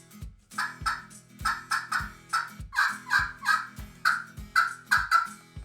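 A wooden turkey call played with a striker imitates a turkey yelp in a long, fairly loud series of rhythmic raspy notes, heard up close with no talking.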